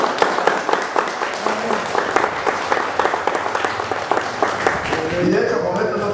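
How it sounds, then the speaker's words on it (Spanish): A church congregation applauds steadily during a praise service, a dense wash of many hands clapping throughout, with a preacher's voice speaking over the applause. "Bueno, si quiere aplaudir, aplauda bien,"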